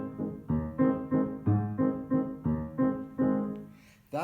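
Piano plays a waltz accompaniment built on six-four chords, a steady oom-pah-pah pattern of bass notes and lighter chords repeating in even triple-time pulses, alone and clear.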